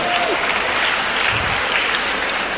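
A crowd at a public gathering in Malda gives enthusiastic applause for local women, a continuous, dense clapping that stays even and loud throughout, with a faint tone briefly audible early on.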